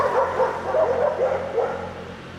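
Dogs barking and yipping in a street, a pack roaming a central road; several short, fairly close barks repeat in an irregular rhythm over steady background noise.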